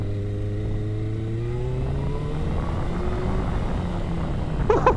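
A Kawasaki ZX6R motorcycle rides through Pattaya city at night, its engine pitch climbing steadily as it accelerates under a constant wash of wind and road noise, with a brief clatter near the end.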